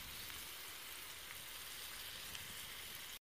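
Onions fry on an outdoor grill with a steady, even sizzle and fine crackling, moderately quiet and unbroken, with a short knock at the very end.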